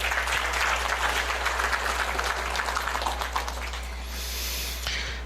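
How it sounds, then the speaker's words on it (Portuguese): An audience claps in a packed hall at an anniversary ceremony and board installation, a sustained wash of dense applause that tapers off toward the end. "mais uma salva de palmas"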